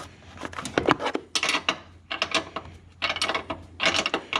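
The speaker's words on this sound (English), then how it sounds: "now you can take your 15mm wrench and take these off" 15mm wrench working nuts loose on a Ford Explorer front strut, giving irregular metallic clicks and scrapes in short clustered bursts, close by with brief gaps.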